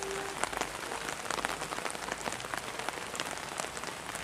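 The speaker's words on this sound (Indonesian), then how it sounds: "hujan-hujan nih." Steady rain pattering on surfaces outdoors near an abandoned house, a dense, even hiss of drops with scattered sharper taps, close and continuous with no talking.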